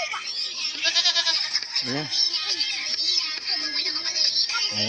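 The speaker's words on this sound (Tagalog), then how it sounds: "Tingnan nyo yung kambing ni Tisay." A goat bleats loudly and close by on a farm, giving several wavering cries over a few seconds while people talk nearby.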